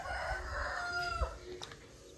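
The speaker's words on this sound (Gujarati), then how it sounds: "કુકડા બોલે" A rooster crows once, faint and somewhat distant, in a quiet farmyard with cows and horses.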